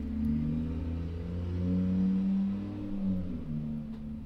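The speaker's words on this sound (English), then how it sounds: "The engine was obnoxious." A car engine revving with a loud, continuous low drone whose pitch swells and dips slightly over several seconds, heard alone without voices.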